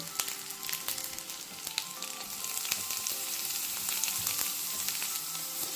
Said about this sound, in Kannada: ಇವಾಗ ಇದನ್ನು ಚೆನ್ನಾಗಿ ಬಟರಲ್ಲಿ ರೋಸ್ಟ್ ಮಾಡಬೇಕು